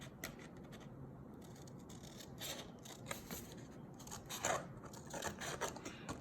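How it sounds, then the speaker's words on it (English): Scissors trimming a card paper flap, quiet close scraping snips and rubbing across the clip with no talking. "I'm just going to trim that up."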